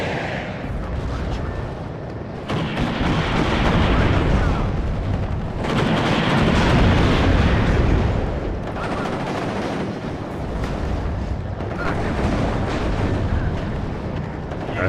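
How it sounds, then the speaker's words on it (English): Artillery fire support pounds a target in the WARNO video game during a Soviet attack on NATO positions: dense, continuous rumbling booms and blasts that swell and ease in loud waves. "We got adequate fire support on target"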